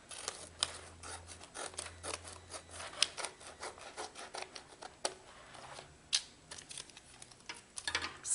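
Scissors snip and trim tape on a composition book cover, giving a series of close, crisp cuts and scraping rubs spread irregularly across the stretch, with no talking.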